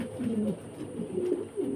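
Fancy pigeons at a pigeon farm in Faridpur coo in soft, low, throaty rolling calls that repeat steadily and close by, with no talking.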